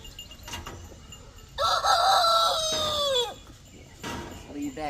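Free-range chickens at their coop, with a rooster crowing a loud, clear call in the middle over soft clucking and scattered hen noises nearby.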